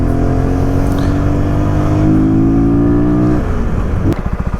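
Motorcycle engine revving up with a steady rising drone and strong harmonic whine that drops off near the end into rough, pulsing idle; close and loud, with no speech.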